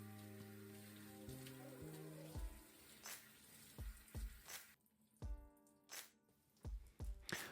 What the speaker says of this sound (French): On rince abondamment.